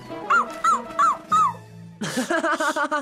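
A cartoon puppy lets out a string of high, squeaky yips, first a few spaced whimpering cries and then a quicker, louder burst of yapping.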